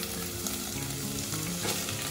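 Peas and beans lightly frying in a pan, giving a soft, even, continuous sizzle with faint stirring and no voices.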